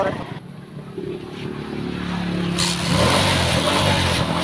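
A Pinoy 155 motorcycle engine idling and revving during a road test, a steady running drone that swells louder partway through, with a brief voice near the start.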